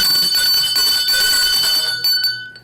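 A bell rings continuously in a bright, rapid ringing tone, loud and close for about two seconds before stopping abruptly.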